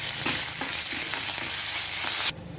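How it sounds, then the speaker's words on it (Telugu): A tempering of garlic, dried red chillies and curry leaves frying in oil, a dense close crackling sizzle with light stirring that drops off sharply near the end. "పోపు వేగిపోయింది, స్టవ్ ఆఫ్ చేసేసుకుందాము."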